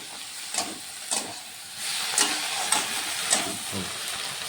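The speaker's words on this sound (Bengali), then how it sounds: "কষানো প্রায় হয়ে গেছে, আর একটু কষাই তারপরে জল দিয়ে দেব" Okra masala is sautéed in a pan, a soft steady sizzle and hiss punctuated by several sharp spatula scrapes at a slow rhythm, close and fairly quiet with no talking.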